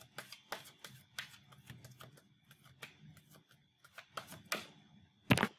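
A deck of tarot cards riffles and snaps in quick bursts of crisp flutters, close up and fairly quiet, ending with a sharp slap.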